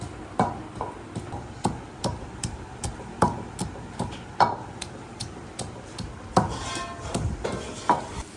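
Garlic and ginger pounded by hand in a village kitchen, a steady series of sharp, close thumps roughly every half second, with no talking.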